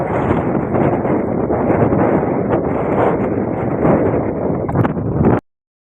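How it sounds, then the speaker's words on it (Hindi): Strong wind in Almania buffets the microphone in a loud, roaring rush that continues without a break and then cuts off suddenly. "देखो हवा भी इतनी तेज़ हवा है"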